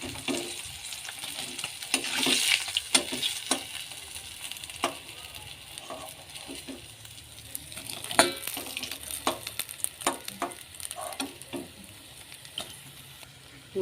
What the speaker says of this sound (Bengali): এখানে হচ্ছে কাতলা মাছ ভাজা